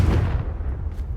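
A Confringo fire spell bursts in a low, rumbling explosion within the Hogwarts Legacy video game, a single boom that rolls on with a deep decay, loud and close, with no talk.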